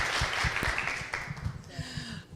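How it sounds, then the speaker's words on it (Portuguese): Applause for a participant at a meeting, a room of people clapping steadily at moderate volume, fading out toward the end. "Palmas para a Zélia, gente, porque ser a primeira tem que ter muita coragem"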